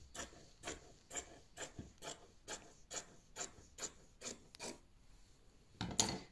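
Scissors snip through fabric resting flat on a table while sewing a scrunchie, about a dozen quiet, evenly spaced rasping cuts close by, with a slightly louder snip at the end.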